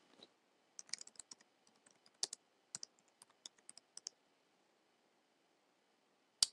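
Quiet, crisp taps on a phone's on-screen keyboard while a note is typed, irregular bursts of light clicks for about four seconds, then a pause and one final sharper tap.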